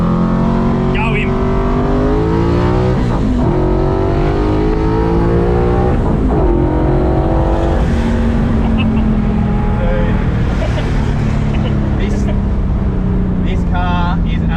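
An old HAKO car races around a track, its engine loud and close, revving and shifting through rising pitch sweeps, with people talking and exclaiming in the cabin over the roar.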